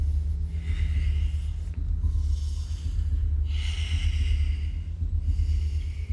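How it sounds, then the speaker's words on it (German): Heavy, labored breathing and repeated snorts from a contestant straining during a physical game show challenge, close and rhythmic with bursts of breath every second or so. "Luke hört man nur laut atmen"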